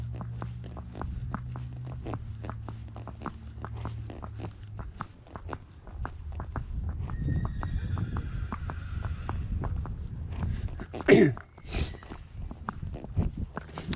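A walking horse's hooves clip-clop at a steady, even pace on a trail ride, close and moderately loud, with soft rustling and a brief louder knock near the end.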